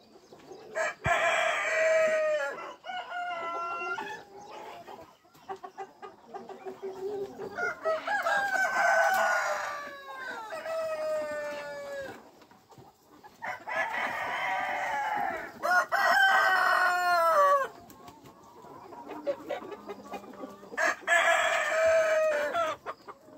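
Roosters and chickens on a desi poultry farm, let out early on a summer morning, crow repeatedly in loud, drawn-out calls, with steady clucking filling the gaps throughout.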